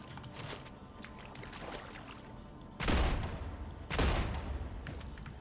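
Gunfire in the StarRupture video game, a run of rapid crackling shots followed by two heavy booming bursts about a second apart, each with a sharp onset and quick decay.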